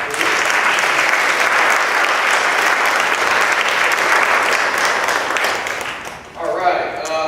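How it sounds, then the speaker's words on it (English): An audience at a talk applauds a speaker with sustained, dense clapping for about six seconds, then the clapping thins out and a voice begins near the end. "please give Jayla another applause."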